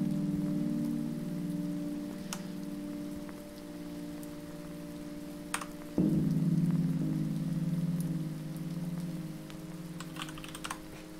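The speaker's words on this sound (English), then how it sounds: "we got some nice, lovely rain texture now." A rain sound-effect texture layered into a music composition gives a continuous patter of droplets over sustained low synth tones, with a louder swell midway and occasional sharper taps.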